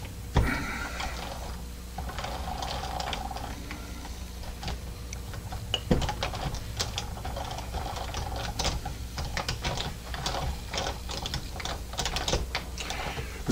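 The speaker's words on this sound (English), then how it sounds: "I'm using an impact driver just to get those free" Impact driver loosening the jaw screws on an old Bernard 3-jaw lathe chuck, a dense run of rapid mechanical clatter and ticking that continues without pause, close up with no talk.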